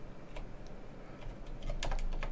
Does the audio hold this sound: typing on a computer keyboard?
yes